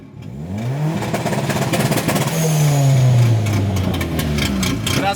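A tuned street Ford Focus engine revs with turbo flutter, loud and close, rising and falling with deep swooping pitch sweeps and a chattering, fluttery texture between throttle blips.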